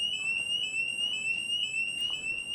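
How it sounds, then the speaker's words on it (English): A school fire alarm rings as one steady, piercing electronic tone, continuous and loud throughout, with faint background noise. "Fire alarm."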